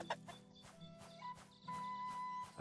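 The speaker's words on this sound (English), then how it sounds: "Goddamn chickens!" Chickens clucking in the video game MyWorld: RPG Maker, a series of short, rhythmic clucks and bawks repeating over a couple of seconds at moderate loudness, with faint game tones running beneath.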